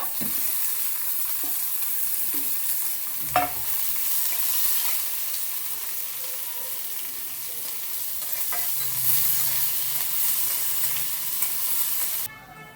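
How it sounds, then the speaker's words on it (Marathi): Onion and chillies frying in a pan, a steady hiss of sizzling with occasional stirring scrapes and clinks, close and continuous with no talk. "मिरच्या छान तळल्या गेलेल्या आहेत त्यामुळे आपण कांदा टाकूया"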